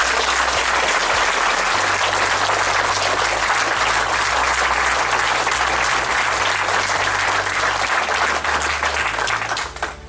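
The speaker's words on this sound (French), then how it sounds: "Il faut vraiment les applaudir" A crowd applauds firefighters at a Sainte Barbe ceremony in Vinzier, loud sustained clapping for about ten seconds, with low music or a drone holding underneath and tapering slightly at the end.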